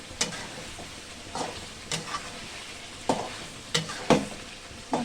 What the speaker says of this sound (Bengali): মশলাটা কষানোর পর যত এভাবে নাড়াবেন তত এটা সুস্বাদু খাবার হবে